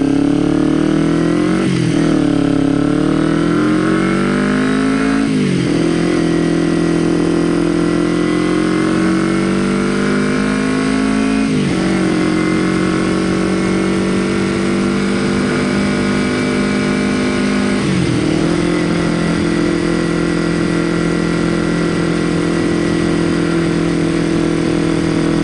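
A car engine drones loudly and continuously, with several rising revs and shifts in pitch as it drives, close to the microphone with no voices.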